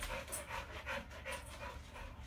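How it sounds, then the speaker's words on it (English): A dog pants quickly and rhythmically after being outside in the heat, soft and close, the breaths repeating steadily and alone. "That's Scarlet panting because she was outside and it's hot"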